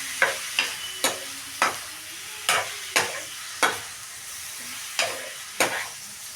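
Marinated prawns stirred through masala in a pan, a close, steady sizzle broken by about a dozen sharp scraping strokes of the spoon at a regular rhythm.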